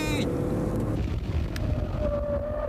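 A Mazda RX-7 and a Nissan 300ZX race side by side on a circuit, their engines roaring loudly and continuously, one note climbing as they pass beneath a bridge.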